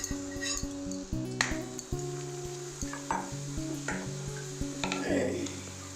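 A laccha paratha fries in a pan, its sizzle running throughout under repeated clinks and scrapes of a utensil turning and pressing the bread, with soft tonal ringing from the pan and a few sharp taps.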